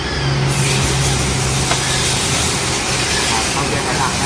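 A Honda CR-V engine runs rough and uneven with the headlights on and the air conditioning at full, a steady loud idle drone with a shaky, misfiring undertone.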